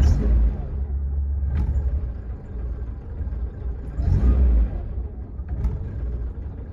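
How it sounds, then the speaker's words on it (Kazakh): A Lada Kalina engine idles roughly at very low rpm close by: a steady low rumble with uneven, shaky surges around the start, the middle and near the end. "Оборот өте төмен екен. Мотор жағы тірайт етіп дірілдеп тұр."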